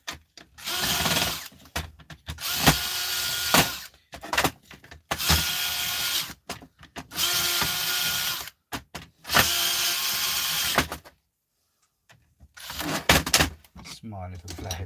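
A Phillips screwdriver drives screws into a brass switch fitting in a series of loud whirring bursts, each lasting one to two seconds, separated by short pauses and one longer silence near the end.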